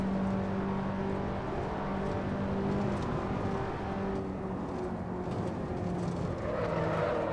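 An Alfa Romeo Giulietta engine in Assetto Corsa, driven on the Nordschleife, drones steadily under load with a sustained tonal hum, moderately loud and unbroken, and nobody speaks.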